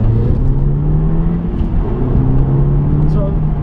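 An Audi TTS accelerates hard, its engine a steady loud drone rising slowly in pitch, heard from inside the car, with faint talking mixed in.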